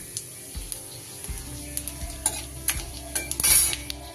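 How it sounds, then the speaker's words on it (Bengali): A bay leaf and cumin seeds sizzle in hot oil with a soft, crackling hiss, broken by sharp clinks and scrapes of a utensil against the pan and a short loud burst of spitting near the end. "এবার ওই তেলে ফোড়নে দিয়ে দিচ্ছি একটা তেজপাতা আর একটু জিরে"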